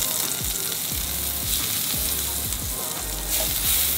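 Butter frying in a hot pan on a stove, a dense, steady sizzle with crackling spatter and a few faint clinks and stirring scrapes in the pan, close and continuous with no talk.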